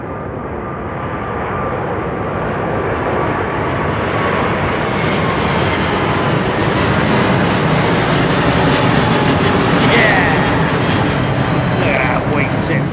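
Jet airliners departing London Heathrow Airport pass overhead, a loud, continuous broadband engine roar with a steady rumble and rising whine that holds throughout, with faint voices mixed in.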